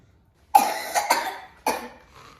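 A child with a lingering cough gives several sharp, close coughs: a cluster of three quick bursts, then one more after a short pause, with quiet in between.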